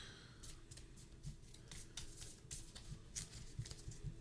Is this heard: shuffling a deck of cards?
yes